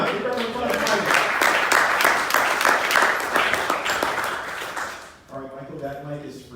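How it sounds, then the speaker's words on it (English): An audience at an event in Orlando, Florida, applauding as a presenter is called up, with steady, moderately loud clapping for about five seconds before it fades into a speaking voice. "Give everyone a round of applause"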